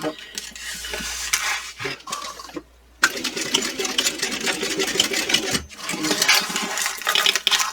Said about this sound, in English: We're going to sew right along this line right here